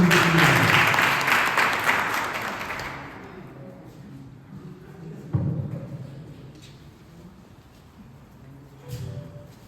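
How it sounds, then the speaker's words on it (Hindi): Loud applause from an audience at a book launch event fills the opening seconds, then fades into scattered claps and faint room murmur. "जोरदार तालियों के साथ"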